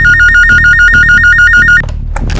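A telephone rings loudly and close with a fast warbling electronic trill in a steady repeating pattern, then cuts off abruptly into low background noise.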